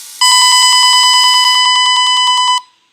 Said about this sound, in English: we still get the beeps as well